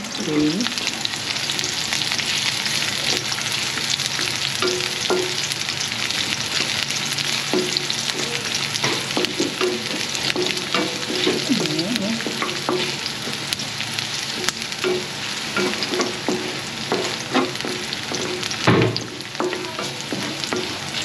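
Ricado aromatics sauté in a hot pan for a Filipino dish before bitter gourd goes in, a loud, dense, constant frying hiss with frequent utensil stirs and scrapes and one sharp knock near the end, with no voices.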